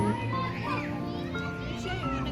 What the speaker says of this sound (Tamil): சவுண்ட்ஸு, அங்கே எல்லாம் பசங்க விளையாடுறது,